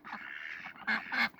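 Ducks on a farm in winter quacking nearby, a run of raspy quacks ending in two louder, sharper calls, heard close with no talking.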